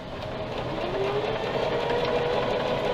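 A sewing machine hums continuously and fairly loudly while stitching knit T-shirt fabric, a steady mechanical drone with no pauses.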